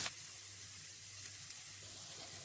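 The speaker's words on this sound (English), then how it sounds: "Stir fry on a medium heat until the onions start to turn golden." Onions, ginger, garlic, green chilies and curry leaves stir-frying over medium heat, giving a steady, soft sizzle and hiss throughout with a constant low hum beneath, no voices.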